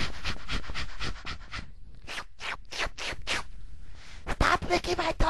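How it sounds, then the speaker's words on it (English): A dog pants rapidly and rhythmically at close range, with a brief pause mid-way before the quick breathy huffs resume, mixed with some scratchy rustling. "And do not be fooled by her dog, Poochie."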